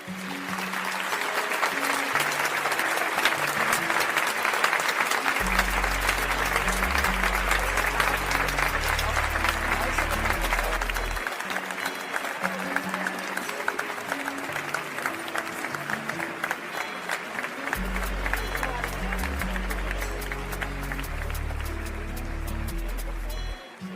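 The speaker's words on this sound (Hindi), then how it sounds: "पाकी ने रिबन काटा और पूरा हॉस्पिटल तालियों की आवाज से गूंज उठा" Applause rings through a hospital after a ribbon cutting, a dense, continuous wash of clapping that fills the space for the whole stretch, with low music-like tones rising and falling underneath.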